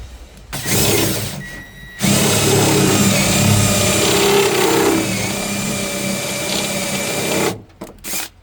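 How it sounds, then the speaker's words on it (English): A power drill whines steadily for several seconds while drilling into the bed of a 2011 Ford F-150 truck, starting with a brief burst, then a long continuous run before stopping, loud and close. "I think should be good to keep drilling"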